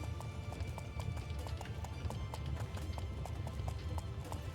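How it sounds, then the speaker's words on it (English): Horse hooves clip-clop steadily in the medieval game Life is Feudal, a brisk, regular rhythm of close hoofbeats over a low ambient rumble, with a faint voice in the background. "Come here, horse."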